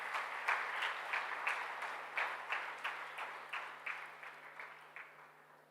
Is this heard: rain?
no